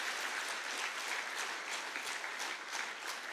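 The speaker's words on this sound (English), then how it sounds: "I think they deserve another round of big applause." Steady, even applause from an audience at a state-level World No Tobacco Day observation, clapping for a school children's choir. It holds at a moderate, slightly distant level throughout.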